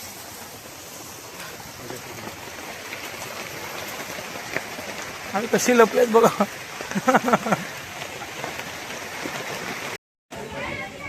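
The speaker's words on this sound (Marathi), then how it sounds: "आता खूप पाऊस चालू आहे" Heavy rain pours steadily with a dense, even hiss while people shelter under a cloth awning on a pilgrimage trip near Bhimashankar. Voices talk over the downpour midway through, and the rain roars on throughout.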